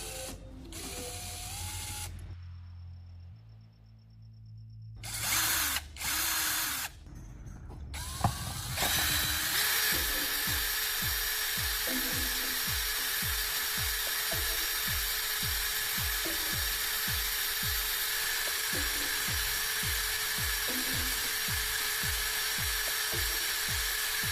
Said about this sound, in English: I'll round off one end of the battery core by mounting it on a drill and sanding it with sandpaper